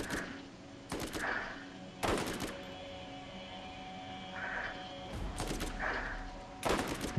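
Gunfire in Borderlands, with several sharp shots spaced a second or so apart over a steady game background hum.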